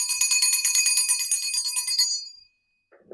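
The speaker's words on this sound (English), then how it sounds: "We're going to use my mom's bell." A small hand bell rings rapidly and continuously for about two seconds with bright, shimmering tones, then stops and fades into quiet.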